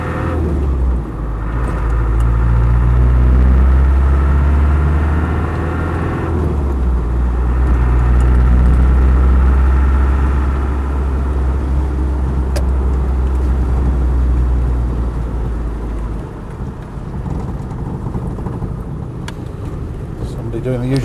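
A Land Rover 110 station wagon with a 200TDi diesel engine driving along, giving a steady, loud, low rumble from inside the cab. The drone swells and eases with the throttle, and the level drops toward the end.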